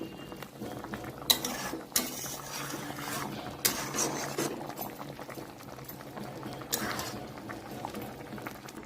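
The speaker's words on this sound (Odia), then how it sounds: "ଏବେ ମାଛ ଫୁଟି ଆସିଲାଣି" A pot of fish curry at a rolling boil, bubbling and churning steadily up close, with several louder bursts of clatter where a lid is lifted or a spoon knocks the pot, and no talking.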